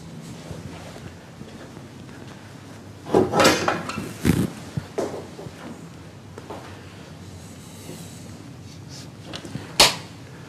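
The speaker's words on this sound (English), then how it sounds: "sliding door through to the ensuite" An apartment's sliding door to the ensuite bathroom rolls and bumps open in a quiet room, with a couple of sharp knocks near the start and a louder clunk at the end, no talk.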